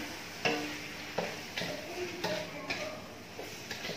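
Vegetables being stir-fried dry in a pan, with sharp scraping stirs and clacks of a utensil every second or so over a low, steady sizzle, close and fairly quiet.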